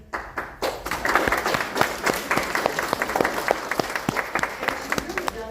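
A live audience at Crab Con 2023, a hermit crab rescue and breeding gathering, breaks into steady applause, many hands clapping close and loud for several seconds with some talk mixed in.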